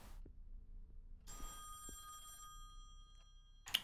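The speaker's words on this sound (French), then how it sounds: "Vous vous rappelez la dernière fois qu'il y a eu un téléphone qui sonnait?" A telephone bell rings inside the horror video game Song of Horror, a steady electronic trill that starts after a quiet stretch with a few low knocks and carries on loud and close until the end.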